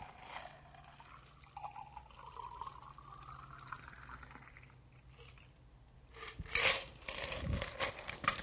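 Cocktail strained from a shaker into a chilled champagne flute, a soft trickling pour with light ice rattle building to a louder, busier splash of liquid near the end; no talking.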